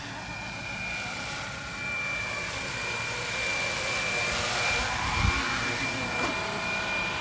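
A GPS-equipped RC helicopter flies in to land, giving a continuous, even motor drone with a faint rising whine and no voices.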